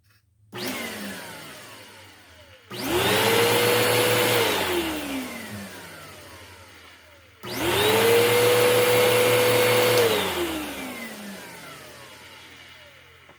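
A reassembled Bissell PowerClean carpet cleaner switched on twice, each time whining loudly up to a steady motor roar for a few seconds before winding down, heard up close with no talking.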